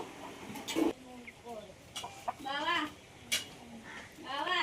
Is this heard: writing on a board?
no